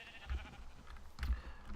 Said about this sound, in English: We can hit up that 4th sheep over there.